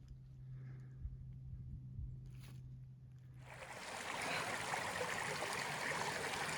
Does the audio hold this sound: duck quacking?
no